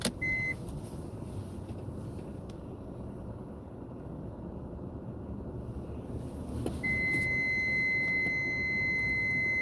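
A CNC machine gives a steady high-pitched electronic beep, briefly at the start and then continuously through the final few seconds, over a constant low machine rumble; no one speaks.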